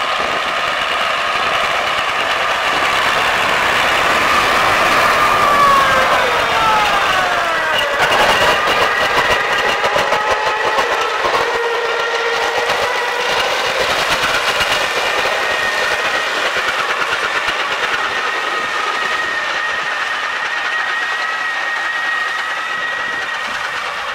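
An MTZ-80 tractor pulling a KRN-2.1 mower while cutting hay, with its engine droning steadily and a tonal whine shifting in pitch, loud and continuous as the machine passes on its round.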